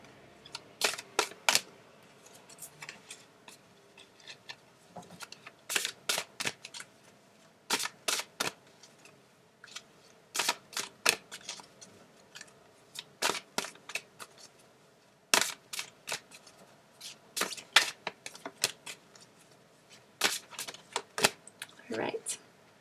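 Tarot advice cards are shuffled close by in repeated quick bursts of crisp riffling and slapping, separated by short pauses across the whole stretch, with no talking over them.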